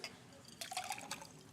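Water poured into a glass at a party conference podium, a short quiet burst of splashing and trickling liquid that rises briefly and then settles, close by with no talk.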